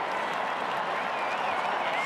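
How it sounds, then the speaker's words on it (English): Football stadium crowd at an AFL match between West Coast Eagles and Essendon, roaring and cheering excitedly in a steady, dense wash of noise ahead of a free kick, with a commentator's voice faintly underneath. "The crowd have realised it's Cameron's free kick, getting very excited and noisy down here"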